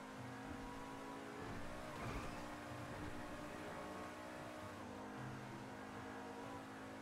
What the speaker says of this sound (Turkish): Şurada da bir basalım arabayla.